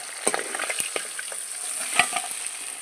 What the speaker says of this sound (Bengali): বাকি মাছও আমি ভেজে নিচ্ছি।